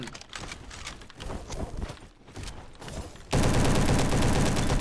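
Rapid SM-03 submachine gun bursts from the Roblox shooter Bad Business crackle in fast strings, ending in a loud, dense, continuous stretch of fire.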